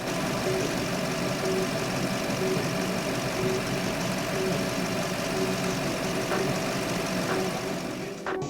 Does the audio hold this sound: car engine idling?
yes